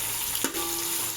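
Ginger-garlic paste with cinnamon and cloves frying in hot oil, a steady close hiss throughout with a brief stir near the middle, no talking.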